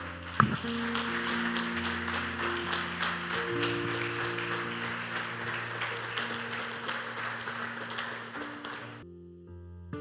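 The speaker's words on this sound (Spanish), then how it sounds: "Póngase de pies y dele un fuerte aplauso al Señor." Steady clapping from a church congregation over sustained keyboard or organ music, continuing for several seconds before the music thins out near the end.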